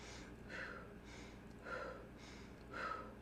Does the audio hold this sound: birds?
no